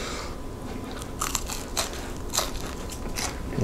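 Crunchy bites into air-fried coconut shrimp dipped in orange marmalade sauce, a few sharp crackling crunches spaced over several seconds, close and moderately quiet with no talking.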